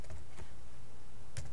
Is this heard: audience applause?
no